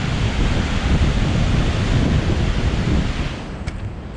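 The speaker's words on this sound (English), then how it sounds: "the reservoir full capacity. That's why it's overflowing." Water overflows a full reservoir dam in Washburn Valley, Harrogate: a loud, steady broadband rush of spilling water with wind buffeting the microphone, continuous throughout.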